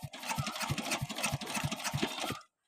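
A small engine runs close by with a fast, even chugging pulse and a rattly mechanical buzz. It stays steady for over two seconds, then cuts off abruptly into silence.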